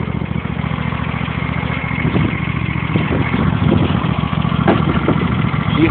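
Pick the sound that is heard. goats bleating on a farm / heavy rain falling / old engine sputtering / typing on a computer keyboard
old engine sputtering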